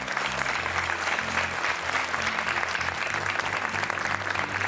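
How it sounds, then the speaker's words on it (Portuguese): A TV quiz studio audience applauds a contestant being introduced, a steady, full wash of clapping held at an even level from start to finish, with no one speaking over it. "então um aplauso para o Miguel"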